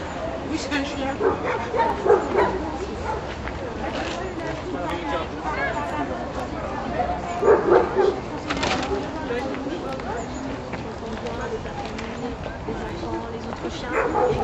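A dog barks and yips a few times amid a busy indoor dog show in Paris, the barks fairly close and mixed with a commentator's speech and crowd noise.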